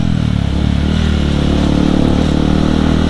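A motorcycle with a loud aftermarket racing exhaust rumbles steadily up close at night in Bandung, a deep throbbing drone without revving or talk.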